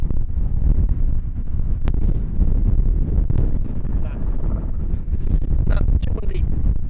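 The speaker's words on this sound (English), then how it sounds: "Too windy." Strong wind buffets the microphone on a beach, a constant heavy rumble lasting the whole stretch with no pauses.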